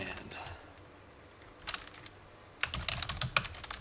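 Brief bursts of typing on a computer keyboard while entering a designer name for a quilt block pattern, a few quick faint clusters of key clicks, mostly quiet between them.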